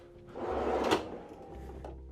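Cabinet door or drawer in the galley of a 2011 Sabre 40 Sedan boat opening with a single soft wooden slide and knock, close and moderately loud, with no talk.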